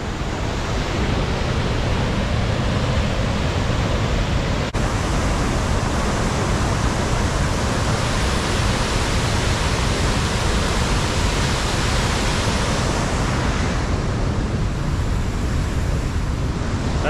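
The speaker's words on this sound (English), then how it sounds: "I can actually feel the waterfall from so far away." Gullfoss waterfall in Iceland, heard from a distance, produces a constant broadband roar with steady wind-like rushing and no pauses throughout.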